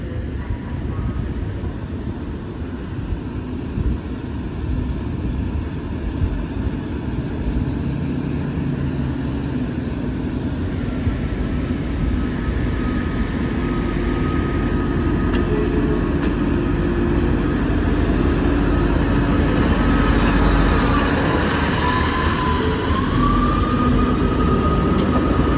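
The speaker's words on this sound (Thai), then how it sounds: "ตอนนี้ก็เหลือขบวนเดียวนะครับผมสปรินเตอร์ที่วิ่ง" A Sprinter diesel railcar train departs Hua Lamphong station in Bangkok in the morning, running steadily nearby: a continuous engine rumble and rolling rail noise that grows slightly louder toward the end, with no talking.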